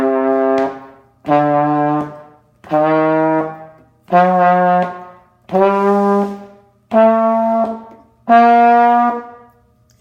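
A brass instrument plays seven sustained notes up a scale, each held about a second with short pauses between, clear and close.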